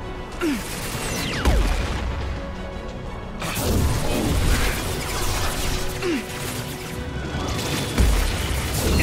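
Grenade blasts in the Mass Effect trilogy game, a series of heavy booms and crashes with whooshing debris, rising from a dense, loud battle din at several points across the clip.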